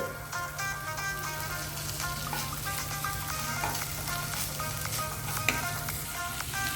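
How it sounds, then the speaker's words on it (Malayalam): Paneer cubes stirred into a masala filling in a pan for dosa, a soft continuous sizzle with light scraping, fairly quiet and close, under a steady low hum, no voices. "പനീർ ആഡ് ചെയ്ത് കൊടുത്ത് മിക്സ് ചെയ്യണം കുറച്ച് കുറച്ച് വിധം ഇട്ടാണ് മിക്സ് ചെയ്തെടുക്കുന്നത്"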